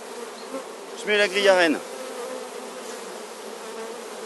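Honey bees buzz in a soft, steady drone around an open divisible hive as a queen excluder is fitted, a brief spoken phrase rising over the hum partway through.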